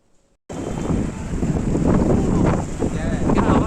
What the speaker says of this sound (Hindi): हवा चल रही है, बढ़िया वाली है